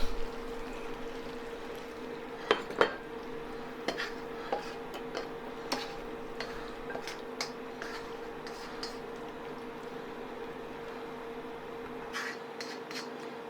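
Chicken and cashew nuts are scraped and spooned from a pan into a serving dish, with scattered light clinks and taps of utensil on crockery over a low steady hum, quiet and without talk.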